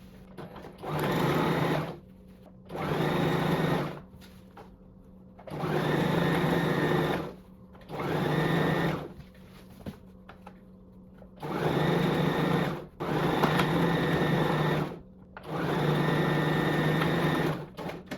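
A sewing machine stitches a strap in seven separate runs, each a steady whirring burst of about one to two seconds with short quiet pauses between them, close and fairly loud.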